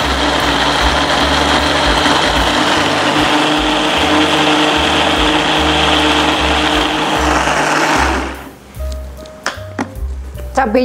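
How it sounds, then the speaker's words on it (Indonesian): An electric blender pureeing chili peppers for a spicy chicken-feet dish runs as a loud, steady whir for about eight seconds, then switches off, leaving quieter kitchen clatter. "Sambil lanjut kita blender cabenya."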